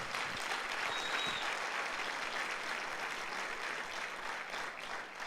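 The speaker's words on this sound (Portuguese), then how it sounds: "Dê um aplauso ao Senhor Jesus." Church congregation applauding at a pastors' gathering, a dense, steady wash of clapping that fills the whole stretch at moderate level with no talk over it.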